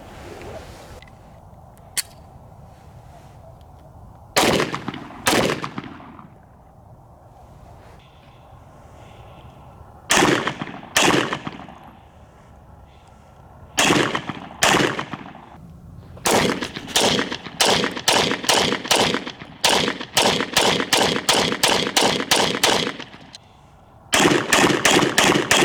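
Springfield Hellcat pistol in Desert FDE with an optic-ready slide, fired at a shooting range: loud, sharp reports come first as scattered single shots, then in quick strings of rapid fire, with no talking.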